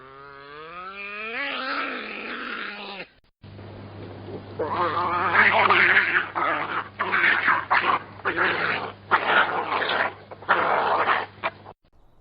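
A badger gives a series of harsh, wavering calls and growling bursts, several in a row with short pauses between them.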